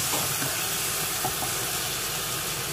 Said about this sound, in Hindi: देखिए ये हमारा मसाला भून रहा है